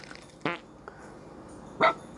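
Dog character in a dog simulator video game letting out short farting sounds: a brief burst near the start, a faint blip, then a louder rasping one near the end over a quiet background.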